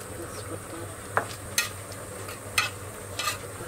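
Dried red chillies and panch phoron spices fry in hot oil with a steady faint sizzle, broken by a few sharp crackles and pops as the seeds hit the pan.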